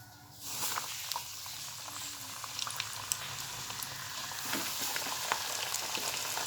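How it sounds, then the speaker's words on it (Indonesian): Flour-coated food frying in hot oil, a steady close crackling sizzle with scattered sharper pops that starts just after the clip begins and runs on continuously, with no one talking. "Sekarang aku mau goreng-goreng."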